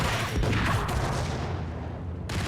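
A grenade blast in the shooter game Max Payne, a dense low rumbling boom with crackling debris that fills the whole stretch, loud and close, then trails off briefly before noise surges again at the end.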